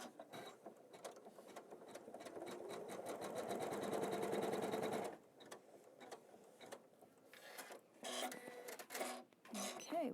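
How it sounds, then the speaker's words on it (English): An embroidery machine stitches a placement line in a rapid, even run of mechanical needle clatter for about five seconds, then stops, followed by scattered handling clicks and brief fabric noises close by. "It's going to stitch a placement line."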